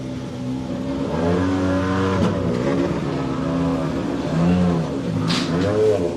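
A purple and black VW Polo rally car revs hard on the start ramp of the Donegal International Rally, its engine note loud and close, rising and falling in sustained bursts without a break.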